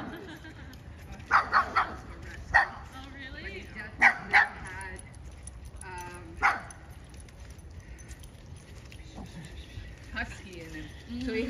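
A large 80-pound dog barks in short bursts while playing, with a few spaced yips and barks over a low background hum; a person talks at times.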